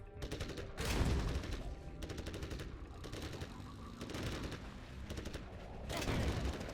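Rapid bursts of gunfire from Ranger infantry in the strategy game Command & Conquer Generals Zero Hour, several volleys of automatic shots spread across the clip, loud and close over a dense battle-sound background.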